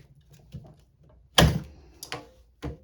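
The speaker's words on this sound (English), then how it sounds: "I put it into the middle of my press and I closed it." A Fastsub tumbler heat press is pressed shut, giving a firm close thunk followed by a couple of lighter clunks and a final knock, all close by with no talk.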